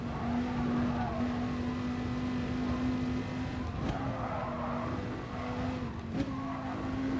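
Race car lapping the Nordschleife in the video game Gran Turismo Sport, a steady sustained engine tone holding one pitch with brief shifts and light tire noise, loud and continuous with no talk.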